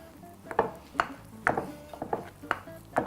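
Potato casserole mixture with eggs, Parmesan and nutmeg being stirred in a bowl, giving a series of distinct clinks and scrapes roughly every half second, close and clear with no talking.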